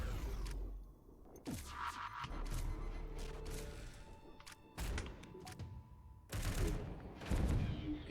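Ion bomb weapons firing aboard a ship in the space strategy game FTL: several broadband bursts and thuds recur over a low rumbling background, with whooshing swells and one stronger impact near the end.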